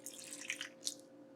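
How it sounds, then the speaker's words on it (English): Pineapple juice poured into cake mix in a bowl for an upside-down cake, heard as a brief soft splashing trickle with a small plop near the end, quiet and close, over a faint steady hum. "we're going to use 1 cup of the pineapple juice to give it more flavor"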